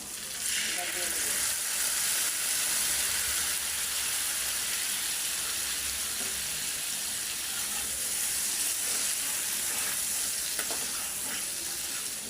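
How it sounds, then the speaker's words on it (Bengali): Onion, tomato and green chili paste frying steadily in a pan, giving a continuous soft sizzle with faint stirring and clinks, no voices heard. "একটু ভালো করে ভেজে নিই।"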